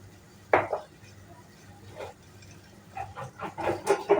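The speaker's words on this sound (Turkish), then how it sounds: "Limonlu yumurtayı güzelce çırpıyorum." A utensil works eggs, lemon juice and yogurt together in a bowl: a sharp clatter first, then scattered knocks and a quickening run of clinks and scrapes toward the end, fairly close and soft overall.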